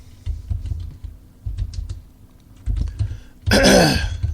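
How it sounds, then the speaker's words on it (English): Computer keyboard typing comes in short bursts of close, clicky keystrokes separated by pauses, with a throat clearing near the end. "as you can hear, I'm typing because I'm looking for something."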